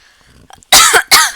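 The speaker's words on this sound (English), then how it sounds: "Wow, those are a lot of coughs." Two loud, close coughs in quick succession after a near-silent pause, each a sharp burst with a brief gap between them.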